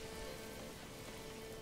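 Rain falls in the medieval city-building video game Manor Lords, a steady, even hiss of rainfall that continues unchanged throughout, with no talking.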